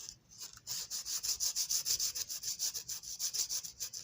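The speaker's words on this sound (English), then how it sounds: "rubbing these down with tincture alcohol or rubbing alcohol" A prewar 1929-32 American Flyer Texaco toy tank car being rubbed down with rubbing alcohol, a quick rhythmic series of about fifteen soft, close scrubbing strokes.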